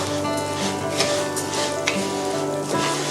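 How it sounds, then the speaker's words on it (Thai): Chicken-fat rice being stir-fried in a pan for fried chicken rice, a steady close sizzle with soft scraping and stirring strokes throughout, no talking. "ก็จะผัดให้ข้าวมัน รัดตัวสักนิดนึงนะคะ ให้ให้น้ำมันมันซึมเข้าไปในข้าว"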